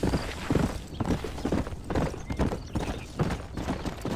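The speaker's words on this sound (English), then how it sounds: "Come here, my loyal steed." Horse hooves clip-clop at a steady walking rhythm in the video game Red Dead Redemption, close and distinct over a low background bed, with no speech over them.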